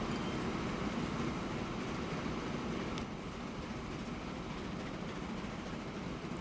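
A train runs in the Transport Fever 2 video game as a steady, low rumbling drone with no breaks, faint in the mix and heard alone without talk.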